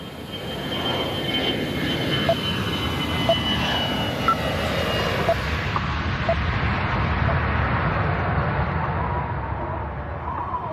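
Air Asia flight 8501 airliner taking off, its jet engines roaring steadily and loudly throughout, with faint radio-like chatter underneath.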